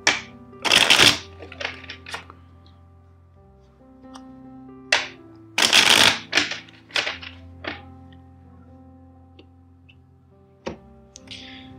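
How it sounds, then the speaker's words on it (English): Tarot cards riffle through two crisp shuffles, each followed by a few light taps and knocks as the deck settles, close and clear against near silence. "Two more shuffles."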